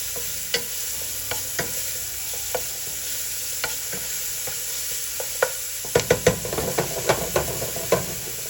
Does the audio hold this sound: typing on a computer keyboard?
no